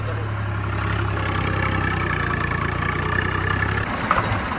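A tractor ploughing a field, its engine running with a steady low-pitched drone close by that loosens and shifts near the end, as if the load changes.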